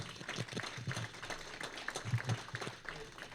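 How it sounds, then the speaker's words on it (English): Scattered applause from an audience at an annual downtown business meeting, fairly faint and sparse claps with uneven bursts, heard from some distance in a large room. "Please give a round of applause"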